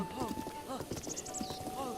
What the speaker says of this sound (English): Gosh, it's a pink horse.